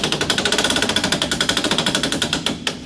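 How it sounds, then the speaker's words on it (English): An Aussie Locker ratchets inside a Jeep Wrangler axle as the wheel is turned, giving a fast, steady run of sharp metallic clicks, close and loud, that slows near the end. "we should hear a nice ratcheting function"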